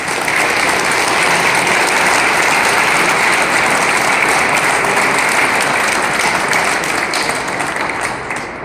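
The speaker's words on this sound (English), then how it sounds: "I want you guys to give yourselves a round of applause for stepping up and fighting the fight" Sustained, loud audience applause fills a gun-rights lobby day rally, steady dense clapping from a large crowd that holds for several seconds before easing slightly at the end.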